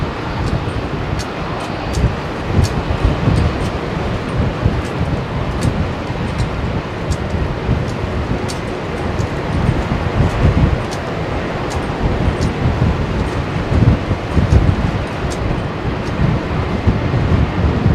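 Blustery wind at Heathrow Airport, buffeting the microphone in a continuous loud roar with gusty surges and low rumble throughout, no voices.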